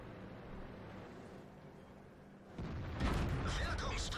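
Tank cannon fire in World of Tanks, a sudden broad boom bursting in after a quieter hum, followed by rumbling blast noise that swells and lingers.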